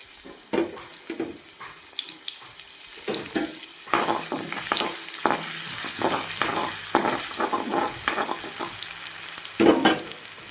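Garlic frying in a little oil for a spiced liver fry, a moderate sizzle with clinks and scraping stir strokes, close up and without talk, getting busier in the middle.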